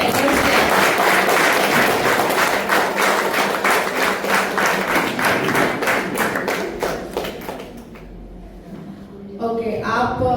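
Audience clapping for Param Pujya Mataji at her birthday celebration: loud, dense clapping from many people for about eight seconds, then it thins and stops as a voice comes in near the end.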